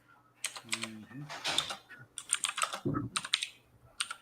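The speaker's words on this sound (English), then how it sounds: "Someone's typing." Keystrokes on a computer keyboard come in quick, uneven bursts during a casual Magic: The Gathering chat stream, with a voice talking briefly over part of it.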